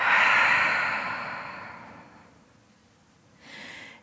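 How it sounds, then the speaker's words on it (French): A deep, breathy exhale through the mouth during a guided relaxation breathing exercise, loud and close, fading out over about two seconds before a short, softer breath follows. "Et grande expiration par la bouche."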